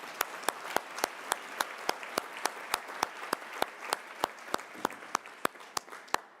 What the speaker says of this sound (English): this really is worth a big round of applause